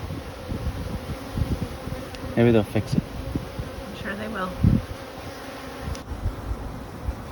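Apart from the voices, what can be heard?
honeybees buzzing at a beehive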